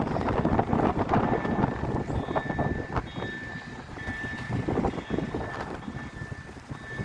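A train rumbles past a level crossing at close range with a steady heavy roar, wheels clattering over the rails and wind buffeting the microphone.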